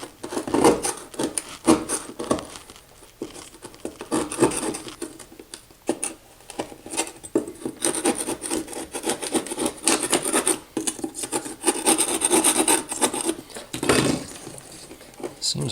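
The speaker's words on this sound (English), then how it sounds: "So I'm gonna peel out some mortar." Mortar being scraped and peeled out over a plywood subfloor during a floor heating cable install, with irregular rasping and rubbing strokes, close and continuous, under intermittent talk.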